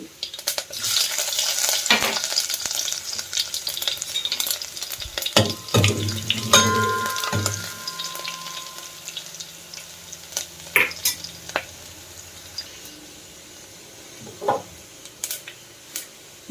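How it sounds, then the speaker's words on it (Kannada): Mustard seeds, cumin and garlic sizzling in hot oil for a black chickpea rasam tempering: bright crackling and popping, loud at first, with stirring scrapes and a few metal clinks, then fading to a softer fry. "ಸಾಸಿವೆ ಸಿಡಿದ ಮೇಲೆ ಜೀರಿಗೆ ಹಾಕೊಳ್ಳೋಣ"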